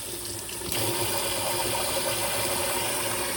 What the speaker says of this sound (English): And now I'm just gonna let it sit and run under cold water